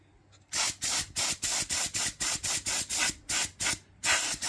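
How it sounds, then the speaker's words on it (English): An airbrush sprays thinned paint onto a Tamiya FAV model in a rapid run of a dozen or so short, close hissing bursts, evenly paced with brief gaps, after a quiet start and with no voices. "I could get used to this airbrush now."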